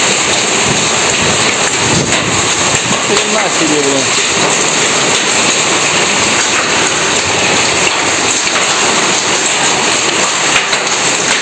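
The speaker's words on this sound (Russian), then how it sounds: "Град хреначит." Heavy hail pelts down in a loud, unbroken drumming roar, with a person exclaiming briefly over it.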